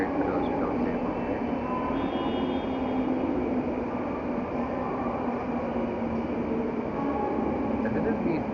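Train passing close by near a train station, a steady broadband rumble and rail noise holding at constant loudness throughout, with speech faintly mixed in.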